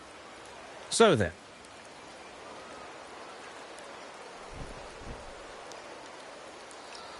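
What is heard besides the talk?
rain falling in a video game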